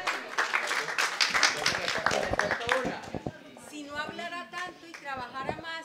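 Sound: audience applause for the artist Conrado

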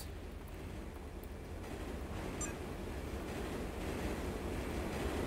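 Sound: train passing on tracks in the video game Turok 3

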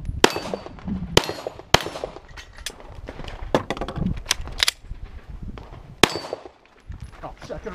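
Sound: gunshots at a shooting session

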